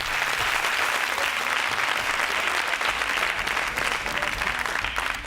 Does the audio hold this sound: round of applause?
yes